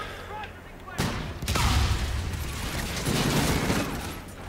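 Gunfire crackles in Call of Duty: Infinite Warfare, with rapid bursts of shots erupting after a quiet start and continuing in dense, loud volleys under occasional player talk.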